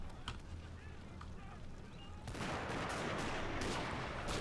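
Arrow volleys from massed archers in the Total War Battles strategy game: a dense, steady rushing patter of many shots that swells louder halfway through, with a faint voice underneath.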